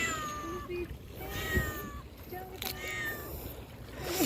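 A cat meows several times outdoors during fishing, with rising and falling cries near and fairly loud over a steady wash of water and wind, and people talk in between.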